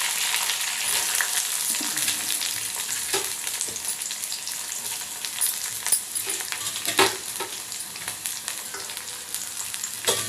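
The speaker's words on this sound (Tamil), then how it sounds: "நல்லா வதக்கி விடணுங்க." Onion, green chilli and curry leaves sauté in hot coconut oil for a bean stir-fry, a steady loud sizzle with occasional spoon scrapes and stirring clatter throughout, no voices.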